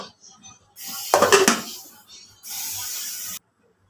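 A pot with an egg to boil is set on a stove, giving a clattering metal clunk followed by two bursts of hissing, near and moderately loud, with no speech.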